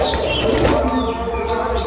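Low, soft cooing from a Madrasi pigeon runs close and continuous, with a brief flutter of wings partway through and a steady background hum.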